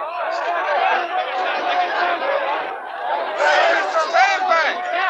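A dense crowd in the Bogside of Derry chatters and shouts, with many voices overlapping in a loud, continuous babble close by, swelling and dipping with occasional raised cries.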